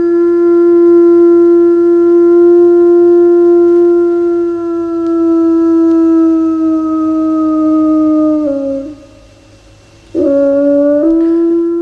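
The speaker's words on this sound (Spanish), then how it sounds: "Los especialistas todavía no saben por qué aúlla el lobo" A wolf lets out a long, loud, close howl on one sustained pitch, drops into a short break near the end, then resumes with a rising wail.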